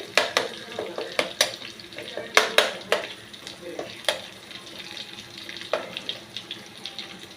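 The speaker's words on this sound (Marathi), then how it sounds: "आपण टाकूयात जे आपण वाटण ठेवलं होतं ना आधी ते वाटण त्या तेलामध्ये" Ground spice paste frying in oil in a pan for a spicy Marathwada-style brinjal curry, with a soft sizzle under repeated sharp clinks and scrapes of stirring, close and fairly quiet.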